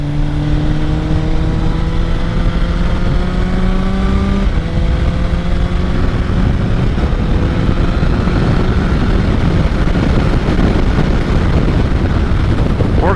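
A 2007 Suzuki GSX-R1000 sportbike fitted with a Dynojet quick shifter accelerates hard on a test ride, its engine note climbing through rapid gear changes, with heavy wind rush over the microphone throughout.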